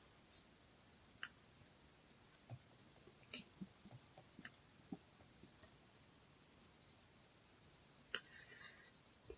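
Marker or chalk writing math on a board, faint scratchy strokes and soft ticks scattered over a quiet room hiss, with a few taps and a brief rub near the end, no talk.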